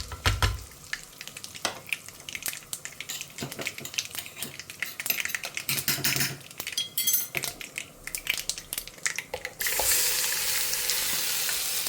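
Ground paste sautéing in a pan of oil with a steady close sizzle, broken by repeated scrapes and clinks of a spoon stirring against the metal. A denser hiss takes over near the end.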